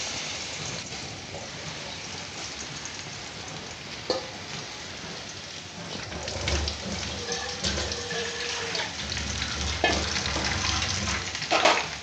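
Kachra frying in hot oil, a steady low sizzle with occasional stirring scrapes, fairly quiet and without talk.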